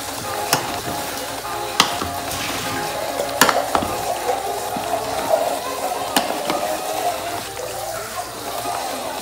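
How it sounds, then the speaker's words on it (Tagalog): Beef kaldereta with vegetables sizzles in a pan as a spoon stirs it, with sharp knocks and scrapes over a bubbling simmer. "So, haluin ulit natin."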